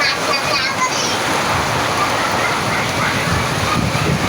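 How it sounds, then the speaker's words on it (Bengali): Heavy storm rain driven by strong wind in Dhaka makes a loud, steady, dense roar of pouring water that runs unbroken from start to finish, with no distinct voices. "দেখুন আপনারা কীভাবে বৃষ্টি হতেছে ঝড় বৃষ্টি হয়"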